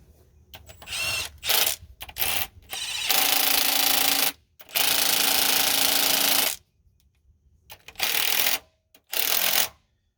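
A power tool tightens bolts on an engine in loud, buzzing bursts, some short and some several seconds long, separated by quiet gaps, close up.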